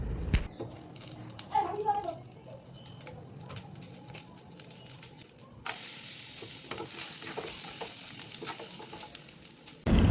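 Whole garam masala and dry red chillies fry in hot oil for a Bengali prawn malai curry, giving a steady sizzle with scattered stirring scrapes and a sharper burst of frying noise partway through.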